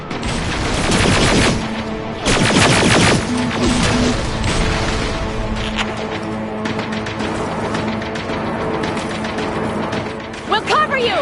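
Rapid gunfire and heavy bursts of shooting in a PS5 action video game, loud and dense at first and then continuing under shouted dialogue from characters.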